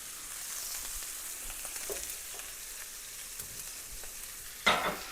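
A steak sears in a hot pan with a steady, soft sizzle throughout, ending in a brief louder clatter near the end.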